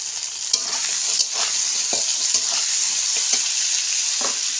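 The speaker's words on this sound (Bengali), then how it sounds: "এখন দিয়ে দিচ্ছি কাঁঠালের বিচি" Jackfruit seeds and potatoes fry in a pan with turmeric, a steady close sizzle broken by the repeated scrape and clatter of a spatula stirring through.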